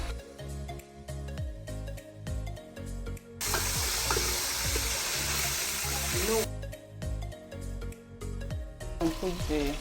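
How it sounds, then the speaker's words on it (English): Shrimp frying in palm oil for native jollof rice gives a loud, broad sizzle bursting in for about three seconds in the middle, framed by background music and speech. "I will quickly want to fry this a little"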